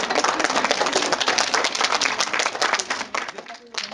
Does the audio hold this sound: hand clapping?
yes